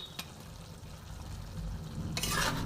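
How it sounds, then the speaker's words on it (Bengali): A tangra fish curry with whole green chilies simmers in a pan, a low bubbling sizzle that swells near the end as a spoon stirs it, close and unvoiced. "আমি একটুখানি নেড়ে দিই।"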